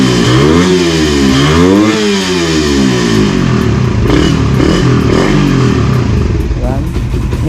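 A Raider 150 motorcycle engine on a stand revs repeatedly as the throttle is opened, loud and close, with rising and falling pitch sweeps over a steady idle, fitted with a racing ECU.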